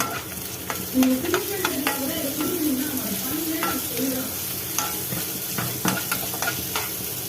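Chilies and chopped onion sautéing in a pan for guava chutney, a continuous close sizzle with spatula scrapes and stirring clicks, while a faint bird coos in the background.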